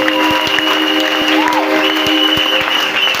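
A church crowd at an evangelical convention applauds and cheers for Jesus, a steady dense wash of clapping over sustained music tones, loud and continuous throughout.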